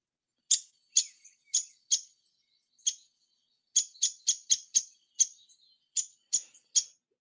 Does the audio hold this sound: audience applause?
no